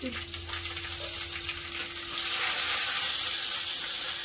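Dried red chillies, bay leaves and mustard seeds sizzle in hot oil for a sour dal tempering, a steady close crackling hiss that swells louder midway, with no one talking.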